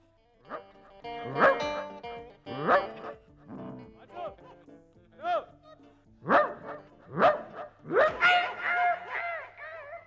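A dog barks repeatedly at close range, a series of loud, separate yapping barks spread over about ten seconds that crowd together toward the end.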